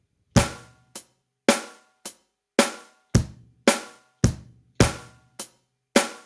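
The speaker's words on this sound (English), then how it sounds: "If we add in the snare drums, it will sound like this." A short drum groove with deep kick thumps, sharp snare cracks and hi-hat ticks in a steady rhythm, each hit ringing out briefly.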